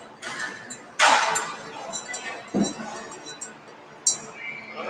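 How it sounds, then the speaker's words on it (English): A spoon stirs a coffee drink in a glass, giving a few sharp clinks and brief scraping against the glass, close and fairly soft. "then we're going to stir that some more again"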